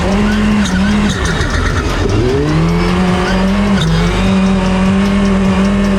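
A 380HP Mitsubishi Mirage rally car drives hard on a rally course, engine droning loudly with pitch shifts through gear changes and tyre noise, close and continuous throughout.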